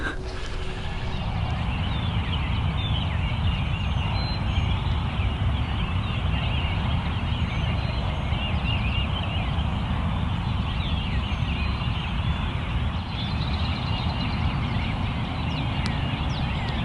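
Wild turkeys gobble at dawn during Kentucky's spring turkey season, their calls repeating amid a dense, continuous backdrop of birdsong and field ambience, with no voices.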